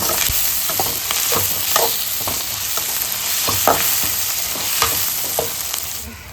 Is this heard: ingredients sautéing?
yes